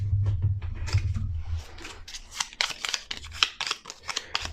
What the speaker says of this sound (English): Always got to remember to shuffle the monster decks.